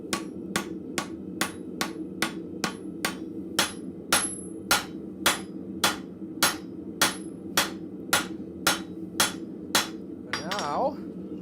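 A blacksmith hammers hot steel at the forge, steady ringing blows struck about once a second, close and sharp, over a low hum of shop noise, ending with a brief scrape.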